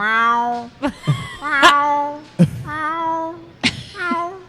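A person imitates a cat in heat with a series of drawn-out, wavering yowls and moans, close and loud, separated by short breaths.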